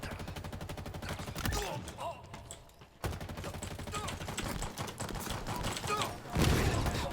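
Rapid gunfire rattles through a video game firefight, and a loud grenade explosion bursts near the end over the ongoing shooting.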